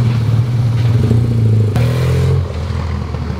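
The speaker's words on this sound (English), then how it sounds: "Watch out, watch out. Motorbike." A motorbike rumbles loudly close by, its engine note shifting abruptly partway through before fading into a quieter clattering tail.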